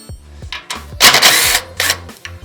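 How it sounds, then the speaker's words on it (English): A handheld power ratchet with a 1/2-inch socket removes motorcycle bolts in short, loud, close whirring bursts of rapid clicking, separated by brief pauses. "I got a 1/2-inch socket on my handy little power ratchet here"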